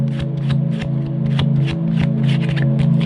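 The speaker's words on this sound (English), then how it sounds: "Let me draw some oracle guidance cards for you." Oracle guidance cards are shuffled in quick, repeated papery riffles over a constant low background hum, close and fairly loud, with no talk.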